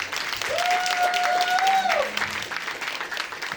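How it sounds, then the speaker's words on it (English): Crowd applauding at a live podcast show in Atlanta, steady clapping with whoops and a loud whistle in the first seconds, then the clapping continues. "Round of applause."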